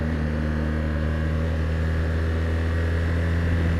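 BMW R1200GS motorcycle engine, a 2016 model, downshifting to third and then second gear, heard as a steady, loud, close droning hum with strong low tones and constant wind rush.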